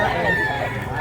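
Live chickens for sale at a poultry market give a continuous, dense clucking and crowing din at close range, with a voice mixed into the steady noise.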